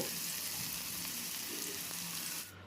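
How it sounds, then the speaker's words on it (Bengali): Cauliflower frying in oil in a wok makes a continuous close sizzle, fairly soft overall, fading to quiet just before the end, with no voices. "এখানে ফুলকপিটা খুব সুন্দরভাবে ভাজা হয়ে গেছে এবার কপিটা আমি তুলে নেব"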